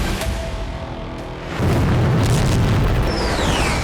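Near Kyiv during Russian bombing with FAB 500 guided bombs, a heavy explosion lands as a deep sudden boom that jumps in loudness midway and rumbles on under dense ambient noise.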